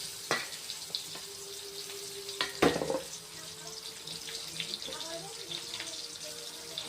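Onion goes into hot ghee and oil with bay leaf, garam masala and sugar and starts sizzling, a sharp burst followed by a steady frying hiss with a few clinks of utensils.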